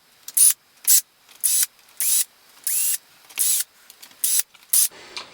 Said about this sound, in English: so that's a lot of screw undoing, so I'm using the power driver here.